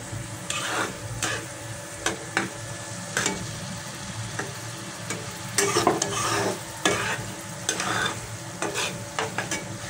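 Rohu fish roe stirred and frying in a pan: a steady sizzle broken by repeated scraping strokes of a spatula against the pan, close and fairly loud, with no voices.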